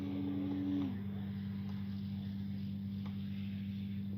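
An E-flite Carbon Z T-28 RC warbird in flight: a steady electric motor whine with a strong sustained tone that dips slightly in pitch early on, then holds a constant drone over broadband wind and rushing noise.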